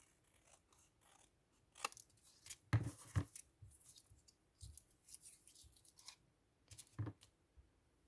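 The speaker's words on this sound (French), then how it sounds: "Voilà, donc là, je coupe le trop-plein." Scissors snip off excess paper for a junk journal page, a few sharp close cuts and small paper rustles spaced irregularly against near silence, with no talking.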